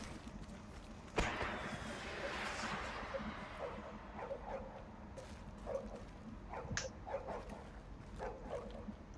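A dog in a video game gives a few short, soft whimpering yelps over steady game ambience and background noise.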